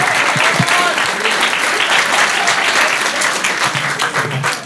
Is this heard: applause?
yes